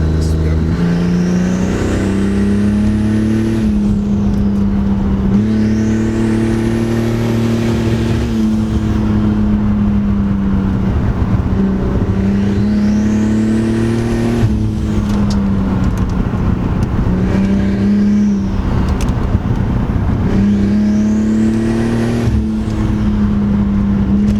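Turbocharged Lexus GS300 with coilovers accelerating hard through repeated gear pulls, loud engine drone rising in pitch with each gear, turbo whine and shift breaks recurring, recorded close and continuous.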